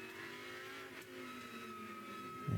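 Race cars sweep through a turn on an oval during a thunder race, their engines droning steadily at a distance before a louder roar surges in at the very end.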